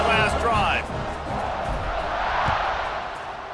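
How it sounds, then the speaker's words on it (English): A stadium crowd in EA Sports College Football 26 keeps up a steady, loud roar after a touchdown drive, with a commentator's voice over it. "this crowd is feeling themselves after that last drive"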